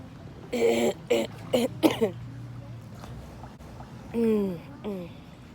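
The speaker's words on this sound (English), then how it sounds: "You be scared to cough, y'all." A few short coughs or throat-clearing bursts, close and fairly loud, with a pause and a couple more near the end.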